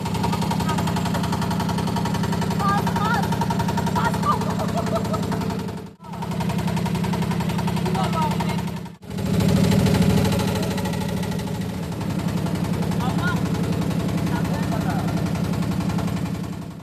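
An old boat motor chugs loudly and close by with a rough, pulsing beat, briefly dipping twice before carrying on.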